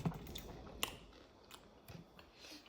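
Close, faint chewing of rehydrated freeze-dried banana slices, with a slight crunch from a bit that was not fully rehydrated; soft, irregular bites and mouth sounds over a quiet room, no talk.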